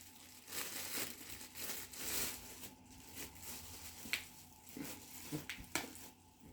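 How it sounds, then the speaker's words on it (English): A knife cuts through celery on a home kitchen board, giving quiet, close, irregular crisp snaps and chops with soft rustling between them and no talking. "Now I'm going to cut me"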